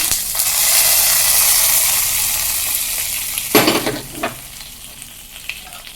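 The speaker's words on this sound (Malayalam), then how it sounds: "ഇതാ നമ്മുടെ കടുകും കൂടി താളിക്കാം കുറച്ച് മുളക് ഇട്ട് കൊടുത്തിട്ടുണ്ട് കേട്ടോ ഇതും കൂടി നമുക്ക് ഇതിലേക്ക് ഇട്ട് കൊടുക്കാം" Mustard seeds and chilies hit hot oil while tempering for moru curry, a loud, bright sizzle with a few sharp crackles and pops as the seeds burst, fading slightly toward the end.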